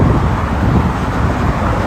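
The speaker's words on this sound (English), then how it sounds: "I don't care for the highway noise, the traffic noise." Highway traffic sounds as a loud, steady broadband roar of passing vehicles, close and continuous, with a windy rumble underneath.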